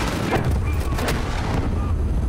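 Cannon fire in the video game Call of Duty: Modern Warfare (2019): repeated booming blasts and crackling battle noise dominate the scene, with no talk over them.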